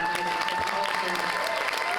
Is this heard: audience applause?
yes